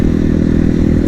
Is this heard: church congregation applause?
no